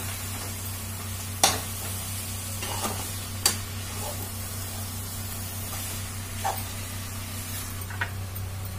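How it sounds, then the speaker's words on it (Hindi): Khoya being stirred into a bottle gourd barfi mixture in a pan, with a soft steady sizzle under occasional sharp scrapes and knocks of the spoon. "और हम इस खोबे को इसमें डाल देंगे। चलाते जाएंगे इसको मिला देंगे।"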